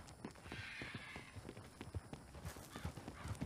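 Horse hooves clop along as a cart is pulled through the Old West setting of Red Dead Redemption 2, a quiet, uneven run of soft hoof beats against faint background noise.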